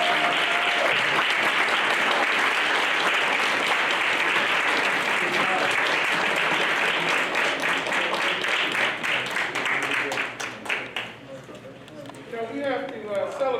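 A board meeting audience gives Luke a round of applause, loud, dense and sustained clapping from many hands that carries on for most of the clip before thinning into scattered claps and murmur near the end.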